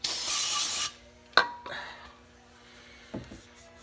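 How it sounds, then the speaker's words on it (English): Brake parts cleaner sprayed in a loud, steady hissing burst of just under a second onto a dirty oil pan gasket plate from a 1997 Honda CR-V, followed by a few faint clatters and soft handling sounds. "I'm gonna clean it with some brake parts cleaner that I just happen to have right here."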